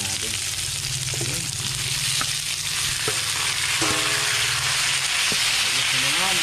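Wild duck meat frying with onion in a loud, dense sizzle, close up, with occasional stirring clanks and a voice talking over it.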